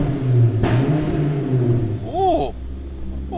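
A Volvo V70R wagon's engine rumbles under load with a sharp crackle and a rising then falling rev, followed by a quieter idle, heard close up inside or near the car.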